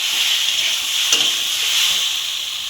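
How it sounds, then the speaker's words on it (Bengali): Vegetables frying in a pan with spices, a steady bright sizzle close by filling the whole stretch, with one brief stir or scrape in the middle and no talk. "আমি এটাকে ভালো করে ভেজে নিই"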